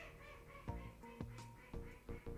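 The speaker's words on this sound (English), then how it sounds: "anybody hear those call ducks?" Call ducks quack outdoors near a welding bench, a series of loud nasal honks in short bursts, several overlapping, with no talk.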